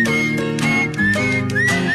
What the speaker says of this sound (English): And I love the whistling as well.